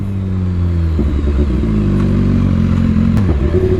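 A BMW S1000RR sport bike revs hard with a loud, steady engine roar. Its pitch stays high, then steps down abruptly at two quickshifter gear kicks, with no speech.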